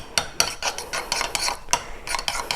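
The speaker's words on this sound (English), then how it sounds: "here we have your 5 egg yolks, and you just want to break them up" Fork strikes and scrapes against a bowl while breaking up five egg yolks for a mandarin curd crème brûlée, a quick run of close, bright clinks and short strokes with no talking.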